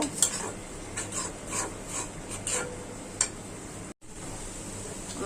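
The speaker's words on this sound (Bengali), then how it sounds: "এখন মশলাটা ভালো করে কষাবো।" Spice paste with chillies being stir-fried in a pan for an egg dish, giving a steady low sizzle with repeated scraping strokes of a spatula against the metal, close and continuous with no talk.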